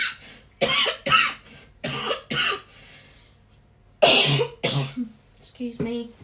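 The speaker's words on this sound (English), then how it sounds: "Sorry about the coughing." A person coughs in a series of sharp, close bursts, several in quick succession, then a pause and a few more harsh coughs, with some speech mixed in.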